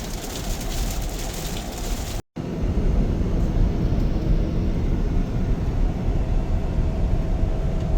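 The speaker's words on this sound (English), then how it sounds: "the rain has already started." Rain falls on a moving vehicle, a dense steady patter mixed with low road rumble, loud and close, broken by a brief silent gap before continuing unchanged.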